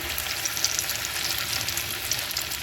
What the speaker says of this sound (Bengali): এই যে আলু সেদ্ধ যে মেখে রেখেছিলাম সেটাকে ভেজে নেব